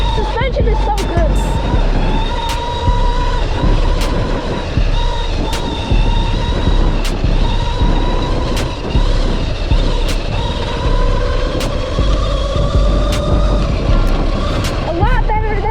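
A MOTOTEC 60V 2000W electric dirt bike ridden off-road gives a steady, loud electric motor whine that rises and falls with speed, over constant rumbling wind and terrain noise with a few sharp knocks.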